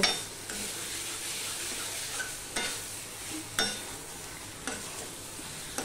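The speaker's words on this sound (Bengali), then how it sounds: "এবার সম্পূর্ণটা ভালো করে মিশিয়ে নিয়ে একটুখানি আমি কষিয়ে নেব।" Snake gourd stir-fried with spice paste in hot oil for a vegetarian dish: a steady close sizzle, broken by four sharp scraping stirs of a spatula against the pan, with no talking.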